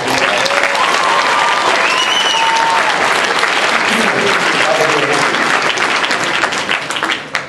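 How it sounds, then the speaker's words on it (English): A convention panel audience at New York Comic Con 2012 breaks into loud, sustained applause, a dense crowd of clapping with a few cheers and whistles that tapers off at the end. "So, round of applause for all you guys."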